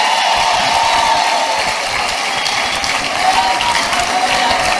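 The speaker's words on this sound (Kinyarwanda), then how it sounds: "amashyi" A church congregation applauding loudly, a dense rapid patter of many hands clapping close and steady throughout, with no voices standing out.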